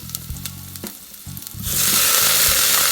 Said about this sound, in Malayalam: ജസ്റ്റ് ഒന്ന് സോട്ട് ചെയ്തിട്ട് നമ്മൾ അരിഞ്ഞു വെച്ചേക്കുന്ന ആ വെജിറ്റബിൾസ് നമുക്കൊന്ന് ഇട്ട് കൊടുക്കാം